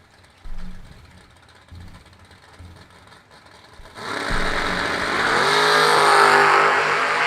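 Chevy Camaro drag cars, including a 1969 Camaro, launch at a Million Dollar Race event: after quiet idling and a few thumps, a loud engine roar swells and holds as the cars pull away.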